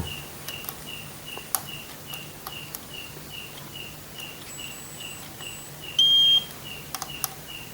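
A multimeter beeps in continuity mode while probing the base of a horizontal transistor in a Polytron TV under repair, with one clear steady tone lasting about half a second amid faint regular ticking and background hum.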